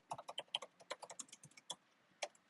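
Fast typing on a computer keyboard, a quick irregular run of close, crisp keystrokes with brief pauses, fairly quiet and with no voices.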